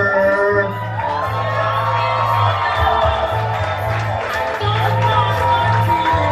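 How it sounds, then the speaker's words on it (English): Wedding guests at a hip-hop club-style reception in a North Carolina castle scream, whoop and cheer as a crowd, sustained and loud over thumping bass-heavy DJ music. "I want to hear some screams, I want to hear some shouts"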